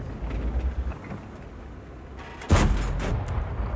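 A single tank cannon shot booms in World of Tanks, a sudden deep blast over a low rumbling engine hum, then a lingering roar.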